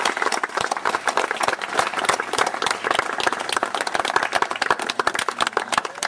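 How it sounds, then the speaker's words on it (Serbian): A hall audience breaks into sustained, dense applause for an author's evening honoring Perica Jokić, many hands clapping at once in a continuous roar with no voices standing out. "sa oduševljenjem i sa merakom pokrećemo ovaj aplauz za našeg Pericu Jokića"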